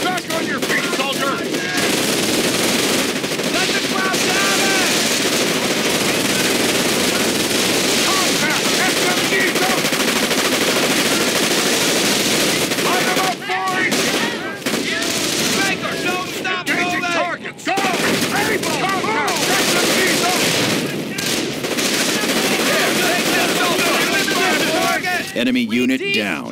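Heavy battle gunfire in the video game Company of Heroes: Tales of Valor, with machine-gun bursts and rifle shots rattling almost nonstop, loud and close, with brief lulls, while soldiers' voices shout over the fighting.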